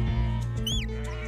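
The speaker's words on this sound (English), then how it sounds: "Emma invested in her first Gotland sheep 13 years ago" A Gotland sheep gives a short bleat on a farm, heard close against a steady low background hum.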